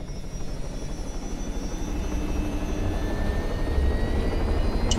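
Helicopter in the military video game ArmA 3, a steady rotor and turbine drone that grows slightly louder and closer over a few seconds, heard alone without talk.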